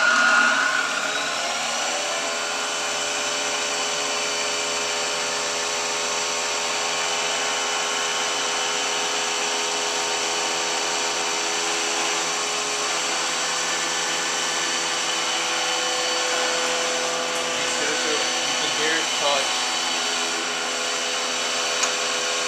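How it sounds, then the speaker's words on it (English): A face mill takes a pass across the face of a machined part, producing a continuous loud, droning whine with steady tonal overtones for the whole stretch. "you want to get enough so you can clean up the whole face that you're machining"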